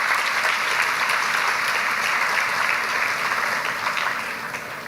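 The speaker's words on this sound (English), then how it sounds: "Can we get another round of applause," Loud, dense applause fills a hall at a new undergraduate student orientation, steady throughout and tapering slightly at the very end, with no talking over it.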